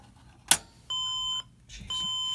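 Desktop PC powering on after a processor swap, still plugged in, gives repeated electronic beeps: a sharp click, then two sustained steady tones of about half a second each, close and clear with no talk.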